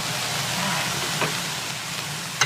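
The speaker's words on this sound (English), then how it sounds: "I'm gonna put a little butter in there. I like a little butter in there with my mushrooms and onions." Butter sizzling in a pan with mushrooms and onions, a steady close frying hiss with a few faint clinks and a sharper tap at the end.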